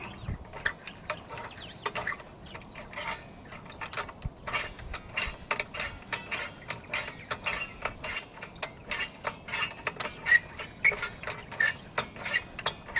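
The parking brake star adjuster on a Nissan Altima is turned with a pry tool, giving a long run of quick, faint ratcheting clicks at close range with no talking.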